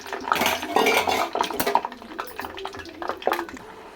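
Peanuts being dry-roasted in a pan, heard as close, busy rattling and scraping of utensil on metal with irregular clinks and stirring bursts, fairly loud throughout.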